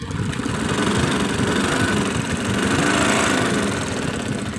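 A sewing machine stitches stretched elastic into the waistband of trousers, running in a steady, continuous motor whir close by and moderately loud for the whole stretch, with no talking.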